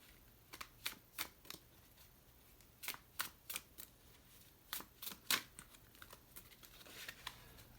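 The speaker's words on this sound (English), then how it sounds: "I cannot shuffle these cards worth a damn." Tarot cards are shuffled in quick, soft bursts of riffling and flicking, irregular clusters of crisp clicks spread across a quiet room.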